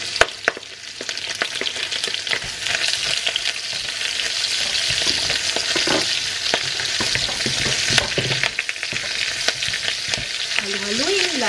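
Garlic and onion frying in a pan for pancit give a continuous close, bright sizzle, broken by frequent clicks and scrapes of stirring.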